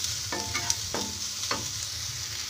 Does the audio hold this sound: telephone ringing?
no